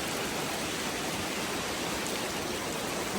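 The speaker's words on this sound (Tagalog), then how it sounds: "Ayan, ulan na." Steady rain pours down at an old family house, a dense, even hiss filling the whole stretch with no breaks and no voices.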